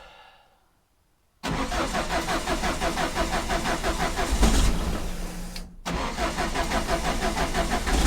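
A small red retro car starts on a cold morning: after a brief quiet the starter cranks and the engine catches, settling into a loud, close, rough idle with a lumpy rhythm and a brief dip midway.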